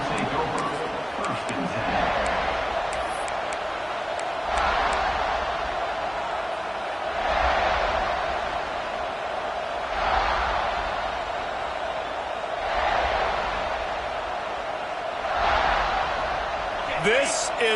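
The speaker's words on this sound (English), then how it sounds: "This crowd ready to make its presence known." Stadium crowd noise in College Football 26, a steady roar of a large crowd that swells in rhythmic waves every few seconds, heard under a commentator's voice.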